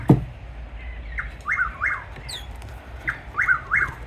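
A tiny bird chirps outdoors in southwest Florida, giving a sharp snap and then several short, bright, close call phrases in pairs and triplets with brief gaps, clear and fairly loud over soft background hiss.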